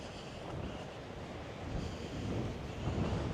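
Steady wind rushing and buffeting against the microphone, a low continuous roar that swells slightly toward the end, with no voices.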